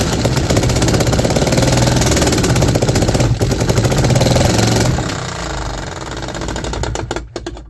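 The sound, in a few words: 3D printed engine running and failing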